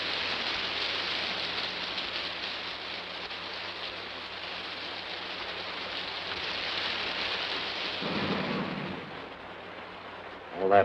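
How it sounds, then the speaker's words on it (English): Heavy rain falls steadily and densely close by in a 1950s post-apocalyptic film scene, a continuous loud hiss that ends with a brief bump of noise. "There's your rain, but good."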